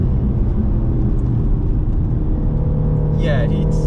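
An Audi RS4 Avant V8 family wagon drones steadily from inside the cabin, a loud continuous low engine rumble at cruising speed with little change in pitch.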